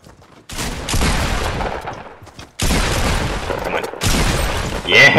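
Loud, close shotgun blasts from a pump shotgun in the video game Fortnite Battle Royale, heard as two heavy bursts with echoing tails and a short gap between them, and no talking.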